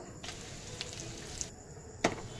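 Shrimp frying in a pan of oil, a faint steady sizzle with light crackles and a sharper spatter near the end, with no talking.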